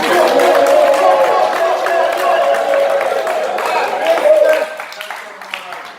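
Audience applause and crowd noise at the Jamaica Music Conference, a dense steady wash of clapping that holds for several seconds and then thins and fades toward the end.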